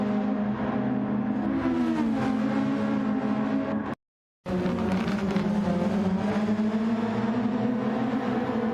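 Several open-wheel race cars scream down the main straight at the 2025 Sainte-Croix Grand Prix in Project SF1, their high engine notes loud and bunched, shifting pitch as they jostle, with a brief total cutout midway.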